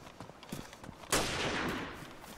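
Gunfire in DayZ, a single sharp shot cracking out at mid-distance followed by a lingering echoing tail, with faint scattered knocks before it.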